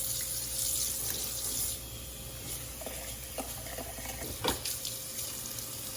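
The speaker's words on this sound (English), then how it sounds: "Now we're gonna rinse the front side, and we're gonna fill it up with water in the middle." Tap water running over a raw Thanksgiving turkey in a kitchen sink, a steady rushing stream with splashes and a few sharper knocks and clunks as the bird is rinsed and filled.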